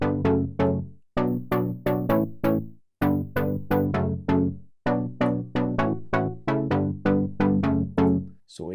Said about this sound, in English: So it gets like more like a lo-fi kind of sound,